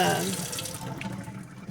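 Running tap water pours steadily into a sink as a bar of handmade cold process soap is rinsed under it, close and fairly loud, with a faint voice near the start.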